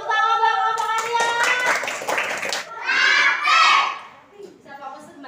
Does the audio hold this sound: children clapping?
yes